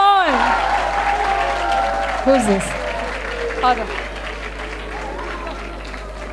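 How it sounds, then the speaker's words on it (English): Applause from a school career fair audience fades as students are called to the stage, while someone talks over the clapping and a voice answers nearby. "Big round of applause."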